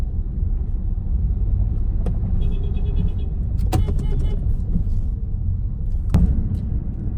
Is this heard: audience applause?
no